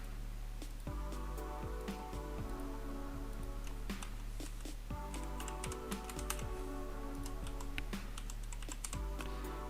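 Someone types on a computer keyboard while entering details into a management system. Quick, close, fairly quiet key clicks come in uneven bursts with brief pauses and no one speaking.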